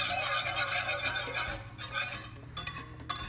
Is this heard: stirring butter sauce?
yes